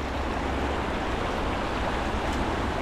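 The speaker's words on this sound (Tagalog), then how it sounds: "Lakas ng agos." Strong river current rushing in a steady, loud, broadband roar that fills the whole stretch without a break, with no talking.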